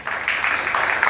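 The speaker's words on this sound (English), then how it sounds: "Let's give them a much-deserved round of applause" A theatre audience applauds, a dense, continuous patter of clapping that holds steady throughout.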